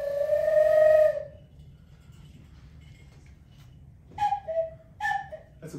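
A falling two-note cuckoo call is imitated up close in a recording studio, probably by a voice or a whistle. One long opening note is followed after a pause by two quick repeats of the cuckoo pattern.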